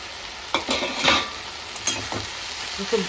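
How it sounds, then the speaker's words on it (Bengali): Mixed vegetables frying on a low flame in a pan, stirred in a few brisk scraping strokes over a soft, constant sizzle, loud and close. "পুরো সবজিগুলো দিয়ে একবারে ভালো করে নাড়াচাড়া করে আমি ঢাকনা দিয়ে ঢাকা দিয়ে রাখবো"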